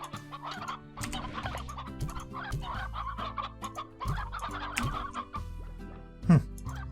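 Chickens cluck and squawk continuously in the video game Slime Rancher, several birds close by, with overlapping game music and no talk.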